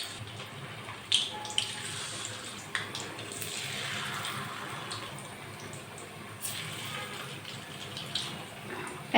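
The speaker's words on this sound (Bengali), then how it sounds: "গরম হওয়া তেলে দিয়ে দিব ওয়েজেসগুলো একটা একটা করে।" Potato wedges dropped one at a time into medium-hot oil, frying with a steady broadband sizzle and occasional pops and crackles throughout, with no talk.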